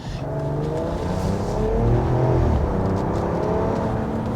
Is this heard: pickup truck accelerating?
yes